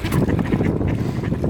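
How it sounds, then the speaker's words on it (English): Trumpeter swans in Canada give honking calls, a few hoarse notes close by over steady wind and water noise. "They're the biggest birds in Canada, trumpeter swans."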